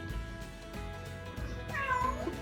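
A parrot imitates a cat's meow, producing one drawn-out, wavering mewing cry near the end, close and clear over a quiet room.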